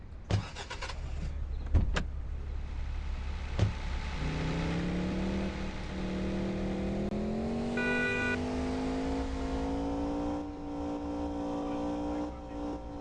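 A Toyota Fortuner's engine in an Indian GTA-style driving game drones up through a long, steady acceleration, its pitch climbing smoothly, after a few sharp clunks at the start.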